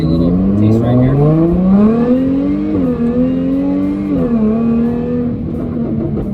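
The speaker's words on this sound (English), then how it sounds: "It gives you a nice firm feel on each shift, and the downshifts sound really good." A Jaguar F-Type V6 S engine revs hard through rev-matched downshifts, the loud exhaust note climbing and stepping down in several distinct blips, heard close from inside the car with no talking.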